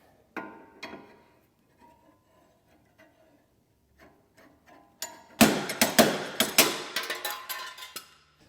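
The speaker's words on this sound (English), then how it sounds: "Now I'll do the slide hammer in here." A slide hammer pulls a worn wheel hub on a Mazda Miata: a few isolated metallic knocks at first, then a rapid run of about a dozen sharp, loud clanking strikes in quick succession, close by in a quiet garage.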